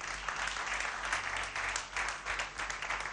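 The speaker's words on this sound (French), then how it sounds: "Applaudissez pour la seule femme du jury." Applause from an audience greeting the only woman on a jury, a dense steady clapping wash that carries evenly through the whole stretch with no talk over it.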